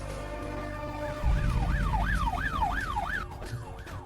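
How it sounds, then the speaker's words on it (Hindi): A wailing siren rises and falls in rapid, regular sweeps over a low vehicle rumble, then fades out. "ये तो पुलिस का सायरन है।"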